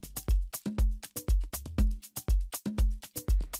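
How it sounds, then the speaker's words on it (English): A punchy drum beat loops steadily with tight kicks, snares and crisp hi-hats in a repeating pattern, close and fairly loud, with no voices. "I have a drum groove that sounds like this."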